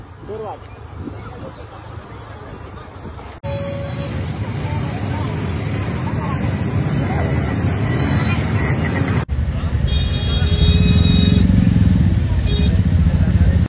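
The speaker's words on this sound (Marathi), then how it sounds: "भावानं फक्त ट्रॅफिक बघा" Road traffic with cars and motorcycles on a foggy route with shortcuts. A loud, continuous rumble of engines and road noise carries on throughout, with voices talking over it.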